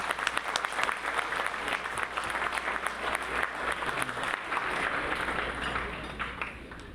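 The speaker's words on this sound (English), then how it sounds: "So clap it up for all those athletes." Audience applause for cross country runners at a team awards ceremony: dense, steady clapping from a crowd, sustained and fairly loud throughout with no break.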